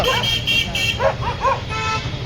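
A dog barks several times in short bursts, close by, amid background noise and a brief horn-like tone.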